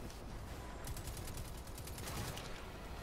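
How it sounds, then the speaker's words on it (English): Rapid gunfire in the Destiny beta, a quick burst of repeated shots from an automatic weapon crackling over a loud, rumbling background. "Somebody shooting behind"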